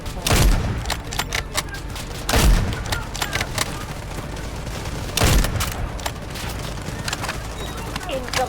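Artillery barrage in the video game Delta Force Hawk Ops: three heavy booms land a few seconds apart over constant rattling gunfire, loud and close, with voices faintly underneath.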